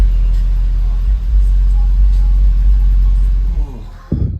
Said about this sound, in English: Two of the woofers on the right are pumping and the two on the left are doing pretty much nothing.